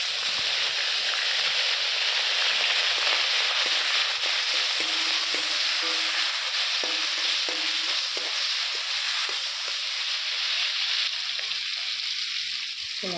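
Prawns frying in a pan of hot mustard oil with mustard-seed and chili tempering, a loud continuous sizzle and hiss close up, with occasional light stirring and scraping sounds.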